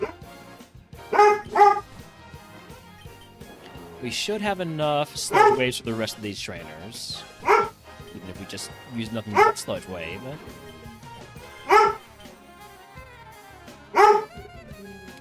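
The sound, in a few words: dog barking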